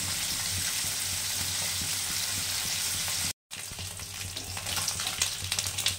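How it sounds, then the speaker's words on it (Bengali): Parshe fish fry in mustard oil with a dense, steady close sizzle, a brief dropout partway through, then a crackling spatter that grows livelier toward the end. "এই মাছটা এবারে সর্ষের তেলে ভালো করে ভেজে নিচ্ছি।"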